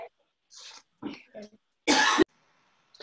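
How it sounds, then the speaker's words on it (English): A single harsh cough bursts out between short breathy vocal sounds and throat noises, loud and close, with brief silences around it. "I'm going to need to cough"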